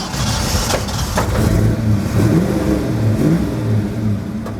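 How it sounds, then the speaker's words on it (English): A 1947 Ford pickup with a 351 Cleveland V8, four-barrel carburetor and dual exhausts starts and runs, its engine rumbling steadily and revving up close by. "I'm going to start it and let you hear it."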